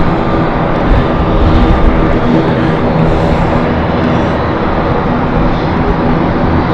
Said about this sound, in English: We'll get Aurigny services also taking off.